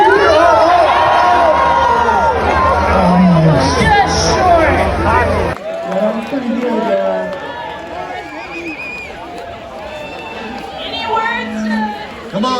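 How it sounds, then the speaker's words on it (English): A lively crowd at a Mount Hood Meadows spring pond skim competition, with loud cheering, shouts and babble of many voices up close, easing into scattered chatter and people talking. "Did you hear that crowd?"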